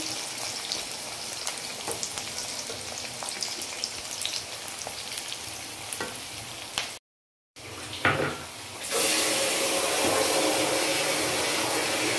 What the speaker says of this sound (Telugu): ఉల్లిపాయలు బాగా ఎర్రగా వేగే వరకు వేయించుకోవాలి